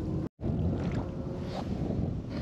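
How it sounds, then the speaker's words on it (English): Wind buffets a microphone outdoors at night beside the water during a catfishing outing, a loud steady low rumble with one brief dropout near the start. "And the wind over here is, for some reason, it's like windy over here."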